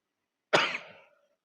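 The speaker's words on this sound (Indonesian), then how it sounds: "Ini mohon maaf saya masih agak batuk nih Pak Haji." A single close cough, a short harsh burst that fades over about half a second, with no talk around it.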